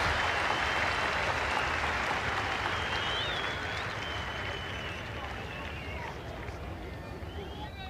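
Crowd at Kingsmead cricket ground in Durban applauding during a 1995 South Africa versus England Test match, a steady, broad roar of distant clapping and cheering running throughout.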